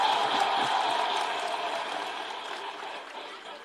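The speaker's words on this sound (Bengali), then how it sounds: "ইমোশনসের জন্য বটে জোরে হাততালি।" A crowd at a speech event claps together in a broad, hissing roar of applause that holds steady at first and then eases gradually downward.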